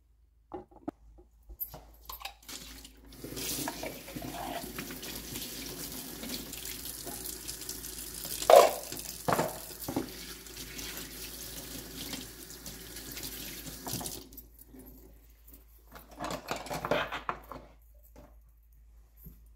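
Tap water runs into a sink as brushes are rinsed under it, a steady splashing stream with brief clunks and handling noises, then the flow stops and a few faint knocks follow.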